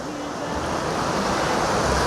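The Lot river flows at Entraygues-sur-Truyère in Aveyron, a loud, continuous broad rush of water mixed with wind noise on the microphone.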